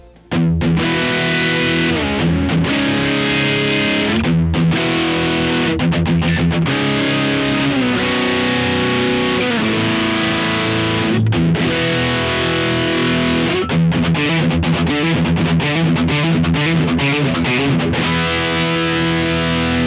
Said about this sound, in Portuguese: Aqui a distorção, vamos ouvir o som.